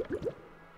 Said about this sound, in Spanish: Lanza burbujas.